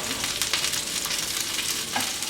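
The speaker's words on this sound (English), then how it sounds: "So now we're going to give this a little stir." Sausage browning in a pan for an Italian Sunday sauce, a loud, steady sizzle with stirring strokes scraping through it, close and continuous, no voices.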